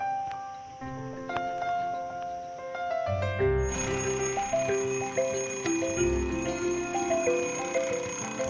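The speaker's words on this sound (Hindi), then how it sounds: "ये न्यू एडिशन मेरे घर पे, ये अलार्म क्लॉक, और ये बहुत हेल्पफुल है मुझे सुबह 4 बजे उठाने" A home alarm clock rings continuously with layered melodic bell-like tones, growing fuller and louder partway through, with no talking.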